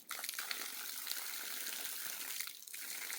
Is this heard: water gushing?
yes